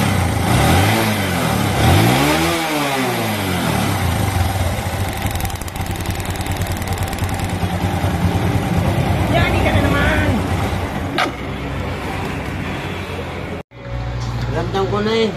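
TMX Supremo motorcycle engine revving up and down several times close by, with a steady idle running between bursts and someone talking over most of it.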